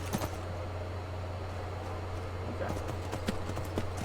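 Horse hooves in Skyrim VR, soft scattered hoofbeats over a low steady hum, growing a bit more frequent toward the end, faint and fairly distant.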